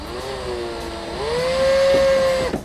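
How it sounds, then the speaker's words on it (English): A power drill whines close up while drilling into a car bumper, its pitch rising and holding steady as it bores in, then winding down abruptly. "I can see the tape making contact with the bumper as I'm drilling"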